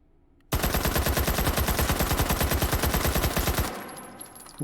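An H&K UMP submachine gun fitted with a muzzle brake fires one long, rapid, evenly spaced full-auto burst in the H3VR game, loud and close, then cuts off into a brief ringing tail.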